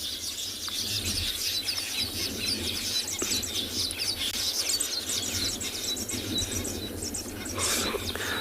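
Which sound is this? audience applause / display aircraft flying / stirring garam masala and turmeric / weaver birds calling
weaver birds calling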